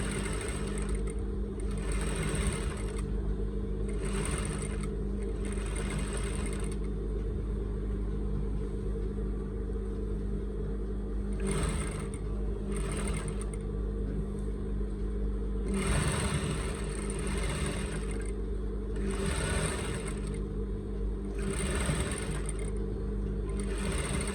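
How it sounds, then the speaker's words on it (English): A sewing machine stitches lace onto a wedding veil, running steadily and close throughout with short rhythmic bursts of higher whirring over a constant low motor hum. "have to lift up your footer and then you sew"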